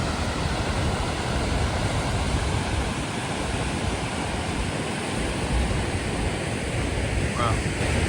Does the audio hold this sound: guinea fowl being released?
no